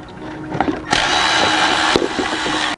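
Power tool spinning out water pump bolts on a 4.0 SOHC Ford engine: a loud, steady whirring burst, briefly interrupted, then running again close by, with no talking.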